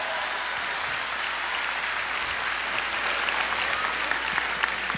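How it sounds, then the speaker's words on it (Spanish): Sustained applause from a comedy cabaret audience, a steady wash of many hands clapping throughout with a few sharper claps near the end, heard without clear talk over it. "¡El aplauso para Anderson y Angélica"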